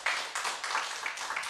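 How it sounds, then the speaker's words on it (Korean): Congregation clapping at a Thursday dawn church service, a dense, steady patter of many hands filling the short moment without speech. "영광의 박수 한번 돌립시다."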